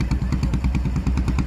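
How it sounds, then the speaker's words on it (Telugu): A fishing boat's engine chugs close by in a fast, steady run of regular beats, each pulse sharp and loud, with no pause over the short stretch. "చేపల కోసం వెళ్ళిన ఈ పడవ"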